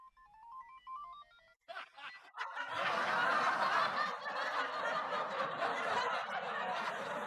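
A mobile phone plays a short melodic ringtone for an incoming call, followed by a sudden loud, dense burst of noisy sound that continues steadily to the end.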